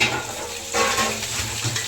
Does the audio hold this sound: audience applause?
no